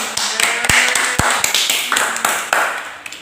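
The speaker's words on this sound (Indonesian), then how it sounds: "tepuk tangan." Schoolchildren in an Indonesian primary classroom clap their hands in a quick, uneven run of sharp claps close by, with a few louder strikes standing out and faint voices in the room.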